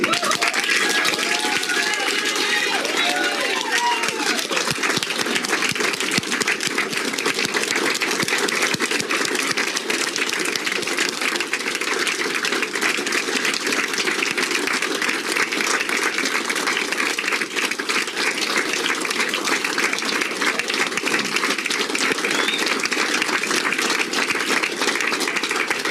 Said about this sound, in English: if you keep standing and clapping